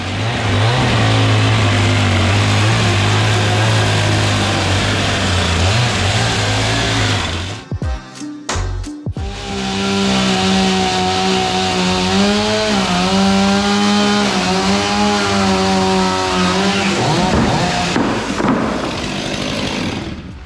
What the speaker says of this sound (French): je vais mettre un coup de tronçonneuse